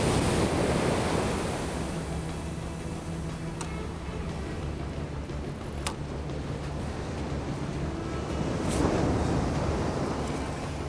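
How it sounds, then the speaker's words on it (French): Rough sea waves breaking on the shore at night at a surf-casting fishing spot on a Tunisian cape, a constant loud roar of surf with wind noise and swelling crashes, no talking. "Ici, la mer est agitée, elle est bien, très bien même."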